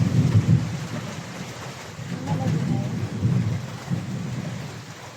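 A heavy thunderstorm with a downpour: deep rolling thunder rumbles through a constant wash of rain.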